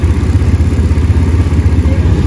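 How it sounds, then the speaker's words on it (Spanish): Quad bike (ATV) on a guided countryside tour near Atlixco, Puebla, its engine running with a steady close low rumble and faint clatter, no talk over it. "estamos en una cuatrimoto, vamos a ir siguiendo nuestro guía"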